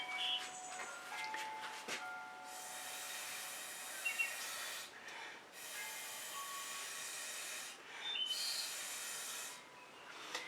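Air blown onto fluid acrylic paint cells, several breathy hissing bursts of a few seconds each separated by short pauses, close and fairly soft.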